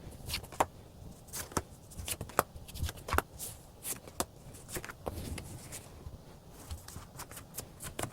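Tarot cards are shuffled and drawn close up: soft, quick riffling and sharp papery flicks come in irregular bursts against a quiet room, with no one speaking.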